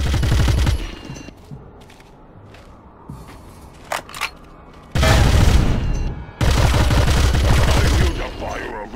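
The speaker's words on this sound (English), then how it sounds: "I hear the fire of intruders." Gunfire from intruders in the Brute Force mission Cemetery Gates: loud bursts open the clip, sparse sharp cracks follow over a quieter stretch, then two long dense volleys of rapid fire dominate the end.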